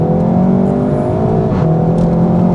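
Cupra 300 hot hatch accelerating hard in second gear with the gearbox left to shift automatically, its engine droning loud and steady close by with a brief dip and rise around a gear change, no talk over it.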